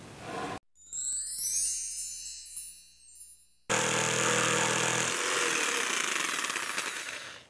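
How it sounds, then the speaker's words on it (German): An electric jigsaw cuts through wood for a handmade wedding gift: a whining motor first, then a loud, steady, harsh rasp of the blade that runs unbroken to the end. "Dann kommt wieder meine Stichsäge zum Einsatz."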